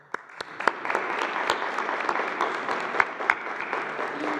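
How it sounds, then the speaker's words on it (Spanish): Audience at a Mexican presidential morning press conference applauding, a steady patter of clapping with a few sharp louder claps, lasting about four seconds. "Un aplauso."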